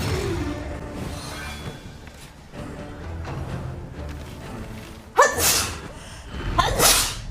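A character sneezes in the video game Darkest Dungeon, two sharp breathy bursts near the end following quieter game sounds.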